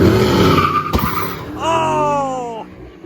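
An LS-swapped Blazer truck launches on nitrous, its engine roaring up close before a sharp burst and a rising tire squeal that slides down in pitch, then fades.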